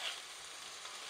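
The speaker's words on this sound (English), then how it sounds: "We're gonna start cooking it." Mexican tinga cooking in a pan, a faint, even frying hiss that holds steady throughout the brief moment with no voices.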